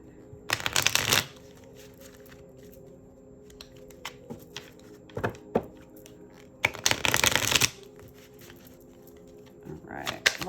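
Tarot cards are shuffled near and fairly quietly in several riffling bursts of about a second each, separated by soft handling sounds.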